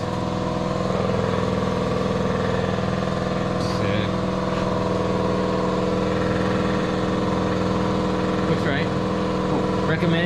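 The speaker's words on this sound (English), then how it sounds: "We're just gonna go for a quick rip just to hear the turbo." A turbocharged Honda Civic engine runs steadily on its first drive with a dense, droning tone, heard close up throughout. A few brief higher sweeps rise over it.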